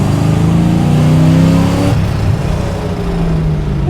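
Supercharged LS V8 fitted in a 1974 Toyota Celica widebody, revving loudly up close: a steady deep engine roar climbs in pitch, then drops off as the throttle is released and settles into a rumbling idle.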